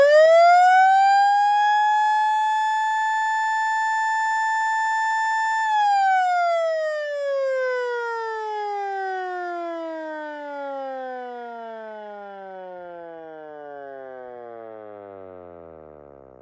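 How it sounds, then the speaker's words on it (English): A loud mechanical siren, a Vixen Horns VXS-8100 Model L knockoff, holds a steady wail, then slowly winds down, its pitch sliding lower and lower over many seconds as it fades. "this siren right here has a much longer wind down than its knockoff right there"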